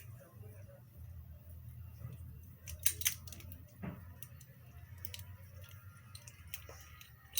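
A hand crimping tool squeezes a connector onto an RG6 coaxial cable, giving a few faint, sharp clicks and a short squeak over a low background hum; quiet and close.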